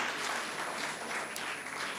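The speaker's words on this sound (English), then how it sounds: "So a round of applause for the Soil Business School" A crowd applauds a business school at a design thinking festival in Gurgaon, giving a steady, fairly faint patter of many hands with no talk.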